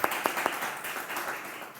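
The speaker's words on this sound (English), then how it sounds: "you guys gonna have to clap for him" An audience at a startup talk event bursts into clapping, a few sharp claps at the start giving way to a brief, fairly faint wash of applause that fills the short moment.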